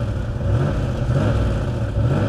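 A Jaguar XK8 pulls away onto the road, its engine giving a close, continuous low rumble that swells as it accelerates, with no voices.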